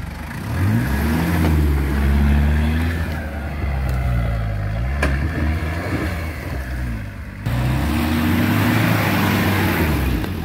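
Off-road 4x4 engine at a steady rumble, then revving and accelerating loudly, with a brief drop in level before the engine surges again during a training session.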